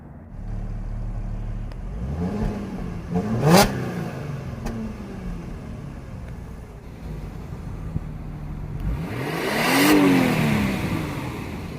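Audi engine with dual chrome exhaust revving twice, each throttle blip climbing to a loud roar and falling away, the second rev longer and stronger, with a steady idle between.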